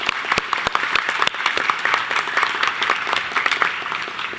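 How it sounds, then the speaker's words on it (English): Sustained applause from a conference audience, a steady wash of many hands clapping at moderate distance with sharper individual claps standing out. "Let's give her an applause."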